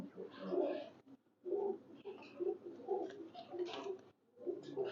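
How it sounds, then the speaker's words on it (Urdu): Soft cooing from a colored pigeon, owned by a pigeon-flying champion in Haripur Hazara, in a series of low rhythmic coos with brief pauses, fairly quiet and close. "یہ کلر کبوتر"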